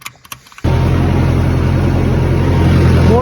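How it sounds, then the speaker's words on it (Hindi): A Sonalika tractor's diesel engine revs up abruptly after a few clatters and holds a loud, steady, throbbing drone while working the hydraulic lifter, close by and without talk. "अब थोड़ा लिफ्टर चला देते हैं"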